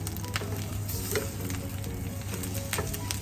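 Egg fried rice sizzles steadily in a pan, a faint continuous frying crackle with occasional scraping stir sounds, close by and with no voices.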